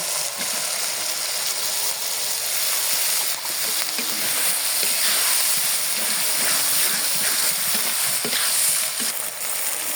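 Fish curry spice paste frying hard in a pan with chopped tomato going in, a steady loud sizzle and hiss running throughout with small stirring clatters, no talking.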